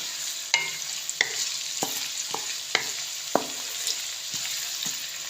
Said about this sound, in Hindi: प्याज को हमने हल्का सा भून लिया है।